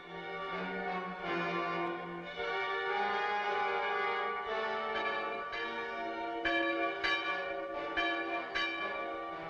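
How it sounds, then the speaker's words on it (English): Church bells toll on St. George's Day, several bells ringing together in a sustained, overlapping resonant peal with repeated strikes, moderately distant and alone. "the villages still tremble when the church bells toll on St. George's Day."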